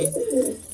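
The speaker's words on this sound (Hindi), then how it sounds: "ये कबूतरी है" A pigeon coos softly and steadily, a low throaty burbling call heard up close with no one talking.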